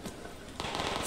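A grenade exploding in the video game Survarium, a loud crackling burst that suddenly swells and fills the short moment, heard close with no talking.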